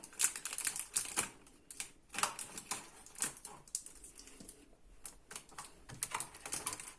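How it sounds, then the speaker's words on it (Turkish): Scissors cut through plastic for an upcycled planter, with a rapid run of close, crisp clicks and snips in an irregular rhythm and no voices. "Makaslı keseceğim."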